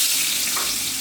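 Garlic hits hot oil in a wok and sizzles loudly and steadily, a dense continuous hiss from close by with no one talking.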